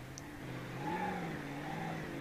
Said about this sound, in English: Drift of the tow truck.